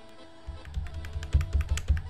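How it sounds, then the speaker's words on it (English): Loud, clacky computer keyboard typing in quick irregular bursts of sharp key strikes, close to the microphone, with no talking. "I actually wanted a keyboard that actually makes these loud clacky noises."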